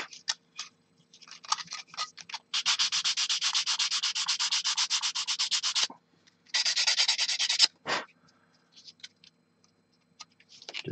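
Plastic parts from a Meng WWToons Tiger tank model kit are sanded by hand. Rapid rhythmic scratching strokes come in long bursts with short pauses and a few isolated scrapes, close and fairly loud, with no talking.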